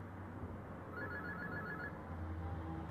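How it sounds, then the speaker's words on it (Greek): A telephone rings faintly in a quiet indoor scene from a Greek sitcom, one brief distant trill in the middle of low room noise. "Ακούτε τηλέφωνο."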